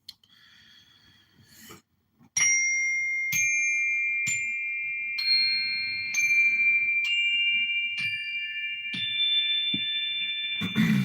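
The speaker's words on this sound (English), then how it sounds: "This is a Zen wooden bell or a mallet, basically." A Zen wooden bell is struck with a mallet about eight times at a steady pace, each strike a bright ringing tone that sustains and overlaps the next, close and clear, with soft breathing or rustle before the first hit.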